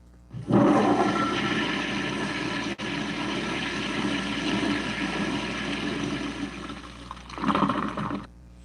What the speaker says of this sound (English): you just flushed them down the toilet